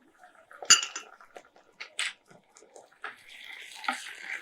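Ginger garlic paste being mixed into sautéed onions in a pan for a Tamil mutton and egg curry, with a utensil clinking and scraping against the metal pan in short, irregular knocks and a soft sizzle.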